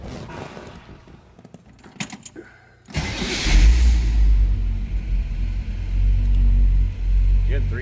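A 1964 Chevrolet Impala convertible with a 327 V8 starts up after some rattling and clicking, the engine catching abruptly and settling into a loud, deep, steady idle rumble close by.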